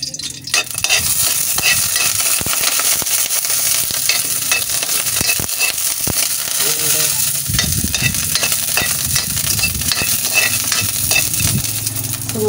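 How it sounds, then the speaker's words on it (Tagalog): Garlic sizzles loudly in a hot frying pan while cooking dinner, a dense, close, continuous crackle and hiss with occasional clanks of a utensil stirring; no speech. "ngayon, ilalagay natin ang ahos"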